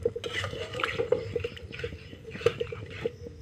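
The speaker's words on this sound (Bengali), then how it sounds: "এখানে দিয়ে দেব জল। অল্প দেব, এটাকে কষানোর জন্যে মাংসটাকে।" Water poured in small amounts into a pan of masala-fried chicken, with soft wet splashes, drips and squelching bubbles, fairly quiet and close.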